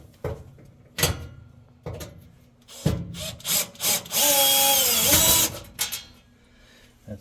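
Power driver backing screws out of a Samsung oven door, a sustained whirring burst of about a second amid clunks, knocks and handling noises close by, no speech.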